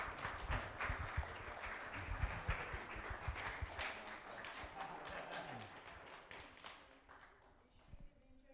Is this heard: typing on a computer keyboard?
no